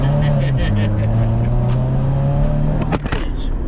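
A new car revs and pulls hard, its engine note rising and holding steady and loud from inside the cabin, with wind noise and a sharp knock near the end and voices around it.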